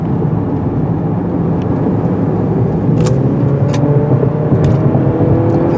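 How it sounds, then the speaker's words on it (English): A 2022 Mercedes-Benz C300 with a turbo engine climbs a steep, curvy road, a steady low engine drone and road rumble heard from inside the cabin, with a faint rising whine and a few light clicks. "this turbo engine has lots of torque for climbing these steep grades"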